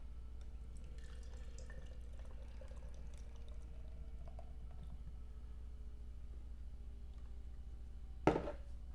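Double IPA brewed with guava, mango, peach and lactose, poured into a glass: a soft, faint trickle of liquid over low room hum, ending in a sharp clink near the end.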